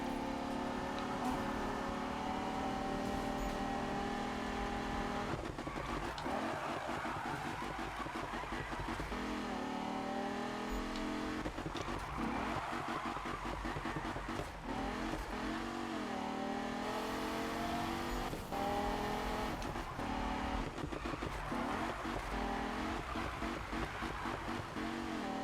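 Cars race around a circuit in the Need for Speed video game, with steady engine drone, repeated revving climbs and gear shifts, and whooshing passes at moderate volume, with no talk.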